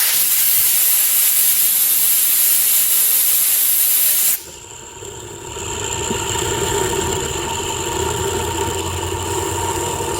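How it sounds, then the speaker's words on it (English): Compressed air blasts loudly through the crankshaft bearings of a 1996 Sea-doo GTX in a steady broadband hiss, then cuts to a lower whirring of the bearings still spinning down with a faint mechanical hum. "So let me get this air compressor here."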